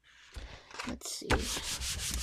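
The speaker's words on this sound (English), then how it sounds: "Let's see if I can push on it and rub on the plate." A paper file folder rubbed and pressed against a gel printing plate, giving close, scratchy sanding-like friction strokes that grow louder and more continuous toward the end, with no talking.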